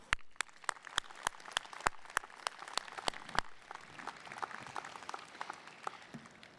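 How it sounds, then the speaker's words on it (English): An audience at a 2022 high school graduation ceremony applauds the graduates. Sharp claps ring out one after another, then settle into a faint, steady patter of clapping from the crowd. "Please give them a round of applause."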